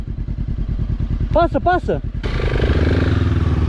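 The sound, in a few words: off-road motorcycle engine revving on a difficult trail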